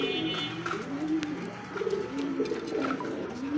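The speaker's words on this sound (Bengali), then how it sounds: "দর্শক বন্ধুরা দেখতে হচ্ছে চমৎকার আরো একজোড়া কিন্তু জ্যাকবিন কবুতর" A pair of Jacobin pigeons coo in low, rolling phrases that repeat nearby, clear and unbroken by speech.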